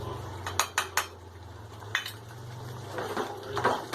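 Ground almond paste is poured and scraped into a pot of chicken curry, with close metal clinks and knocks of a spoon against the pan over a low background hum.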